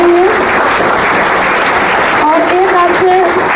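Loud, dense applause from a large audience welcoming a teacher at a school farewell ceremony for tenth-grade students, continuous and close, with a voice talking over it toward the end.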